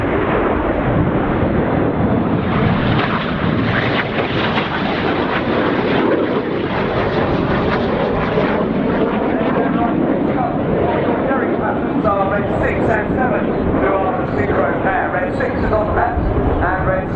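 Red Arrows jets fly low over an airfield at an air display, a loud continuous roar of jet engines that fills the whole stretch with a churning, rumbling wash. Commentary runs over it throughout.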